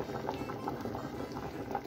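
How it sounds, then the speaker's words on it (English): Potatoes boiling in a pot of water on a stove, with a steady, close bubbling and gurgling that continues evenly throughout, with no voices. "So our potatoes are boiling very well, as you can see"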